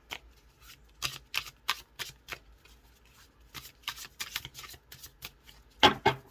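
Tarot cards are shuffled in quick, crisp bursts of riffling and slapping, close and clear against a quiet background, with short pauses between bursts.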